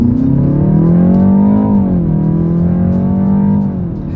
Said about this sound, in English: Let's put the acceleration now to the test with the car having full control